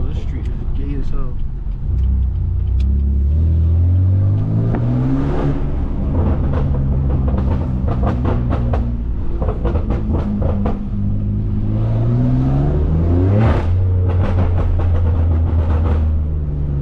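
Straight-piped BMW F80 M3 with about 650 horsepower, heard from inside the car as a loud, deep exhaust drone rising and falling through several revs and shifts, with road and cabin noise underneath.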